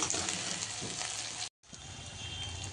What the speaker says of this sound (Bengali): এখানে এগুলাও ভাজা হোক অল্প একটু